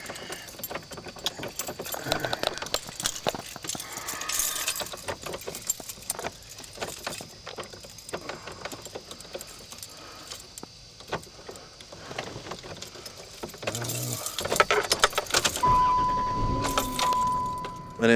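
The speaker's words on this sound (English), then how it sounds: "I'll leave you in the car with the car running" A running car engine idles low and continuous while keys jangle in sharp metallic bursts, with a steady tone appearing near the end; no one speaks.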